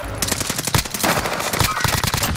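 A shooting video game gives off rapid, loud gunfire in close bursts of repeated shots through the whole stretch, with a faint voice partly under the shots.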